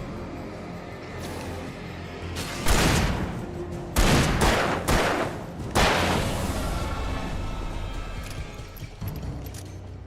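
Shotgun blasts in the video game Alan Wake Remastered: a few loud booming shots spaced irregularly, each with a short rumbling tail, over a quiet ambient game background.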